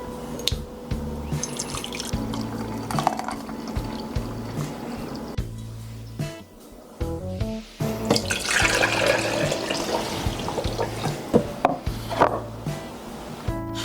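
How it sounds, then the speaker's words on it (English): Simmered pine needle liquid strained through cheesecloth, with drips, trickles and light wet handling clatter across the span, water sounds growing busier in the second half, with no talking. "Now we're going to strain this with some cheesecloth."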